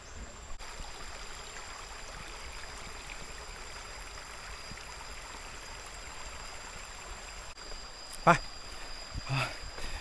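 A forest waterfall stream flows in a steady, soft rushing wash, faint and continuous across the clip, with a few brief sharp knocks near the end.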